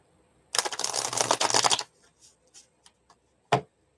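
Tarot cards riffled and drawn from a deck: a loud, close burst of rapid card shuffling for over a second, followed by a few soft, scattered card snaps and one sharp flick near the end.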